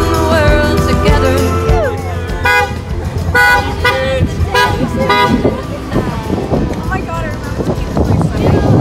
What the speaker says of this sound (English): I think some of them like actually honked.